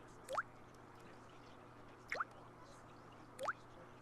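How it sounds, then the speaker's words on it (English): Three distinct drips of solvent falling from a pipette onto a painting, each a quick rising plink spaced about a second and a half apart, faint and isolated over a quiet background hum. "Drip, drip, drip."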